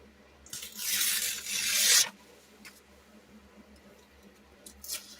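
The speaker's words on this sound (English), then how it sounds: "And I'm just tearing it" Paper being torn by hand to shrink a piece for a vertical planner layout: a loud rough rasp lasting about a second and a half, then quiet with a few faint crinkles near the end.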